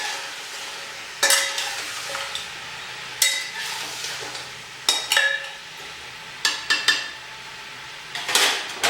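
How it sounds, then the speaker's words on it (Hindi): Mutton frying in a pan on a gas stove, stirred with a metal spoon: sharp clanks and scrapes against the pan come at irregular intervals over a low, steady sizzle, with no voices. "ये जो हमारा मीट है ये बढ़िया फ्राई हो गया है"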